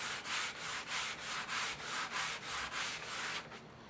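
Steady back-and-forth strokes of 400-grit sandpaper smoothing the edges of a model rocket part, about eight even rubs in a regular rhythm, close and fairly quiet, with no talking.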